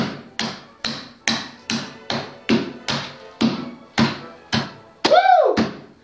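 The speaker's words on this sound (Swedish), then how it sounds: "Ta hammaren och liksom bara banka skiten ur den här." A hammer bangs repeatedly and hard, about a dozen sharp evenly spaced strikes close by. A ringing, wavering metallic clang follows near the end.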